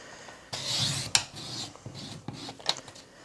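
A paper trimmer slices through thick layered card with short raspy scraping strokes, a few quick sharp clicks between them, close and quiet.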